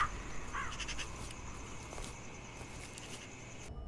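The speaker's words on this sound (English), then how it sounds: "Damn crows are ruining my plantation." Crows cawing in a video game about a plantation, several harsh calls early on over a faint ambient background of insect-like chirring.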